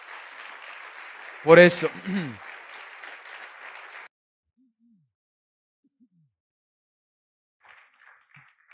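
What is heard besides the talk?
congregation applauding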